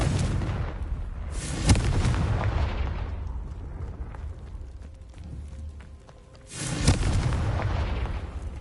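Confringo fire spell explosions in the video game Hogwarts Legacy: two loud booming blasts a few seconds apart, each trailing into rumbling combat noise.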